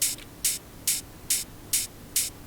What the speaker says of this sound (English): I'm then playing both of them at the same time, and because they're slightly different and they're pitched, it creates a nice wide stereo effect